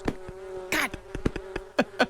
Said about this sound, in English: Oh, the bees are getting angrier.